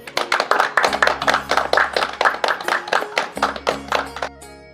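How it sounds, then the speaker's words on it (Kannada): A group claps to honour a guru at a gathering, a quick, even run of loud claps close by over a low steady hum, ending abruptly. "ಚಪ್ಪಾಳೆ ತಟ್ಟುವುದರ ಮೂಲಕ ಗುರುಗಳಿಗೆ ನಾವೆಲ್ಲ ಗೌರವ ಸಲ್ಲಿಸೋಣ"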